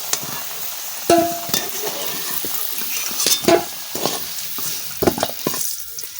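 Potatoes frying in a pan with turmeric in a home kitchen: a steady close sizzle broken by the scrape and clink of a spatula stirring against the pan, with no talking.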